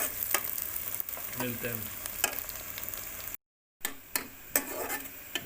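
Onions frying in oil until light brown, a steady loud sizzle with scraping stirs and ticks of a utensil against the pan, a short dropout near the end, and a brief voice at the close.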